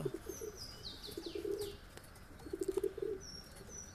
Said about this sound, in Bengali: একটা সারানপুরি ক্রস পায়রা রাখা আছে, আর দুটো শাহজাহানপুরি পায়রা রাখা আছে